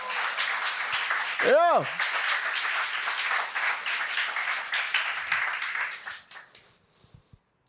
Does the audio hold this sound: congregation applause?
yes